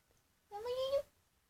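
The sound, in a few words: cat meowing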